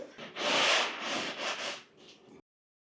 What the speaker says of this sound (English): Now we can do some light sanding around here.